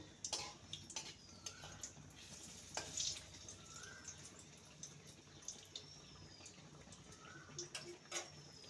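A mango malpua fries in oil in a pan after being flipped, giving a faint, soft sizzle dotted with small crackles and a few light clinks, quiet and close.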